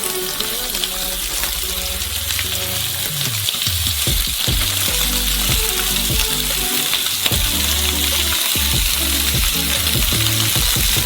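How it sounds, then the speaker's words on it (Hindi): Beef ribs fry in a pan over maximum heat, giving a constant, loud crackling sizzle with scattered sharp spits and pops throughout. "पहली चीज तलेंगे बीफ रिब्स"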